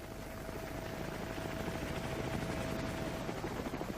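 Continuous rumbling military helicopter rotor noise from many helicopters over desert, with a rapid chopping pulse, broad and steady throughout with no voices.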